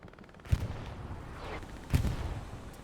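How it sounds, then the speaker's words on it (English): Explosions in the World War II shooter Hell Let Loose on Utah Beach: two heavy booming blasts about a second and a half apart, with a rumbling tail under continuous battle noise. "That sounds like an explosion on the left, but I don't see it."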